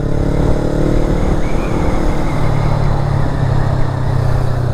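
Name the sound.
motorcycle engine and exhaust on a mountain pass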